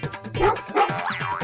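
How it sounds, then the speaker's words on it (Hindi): A cartoon dog gives a few short, bright yips and barks mixed with springy boing-like effects over a busy background in a comedy animation, loud and close. "अरे ये कुत्ता क्यों भौंक रहा है?"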